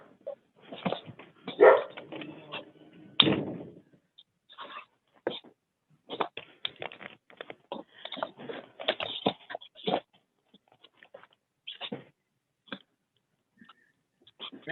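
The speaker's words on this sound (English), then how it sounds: "Somebody's got a puppy." During an online township board meeting a puppy lets out repeated short yips, barks and whimpers in irregular bursts, close to the microphone, with brief silences between.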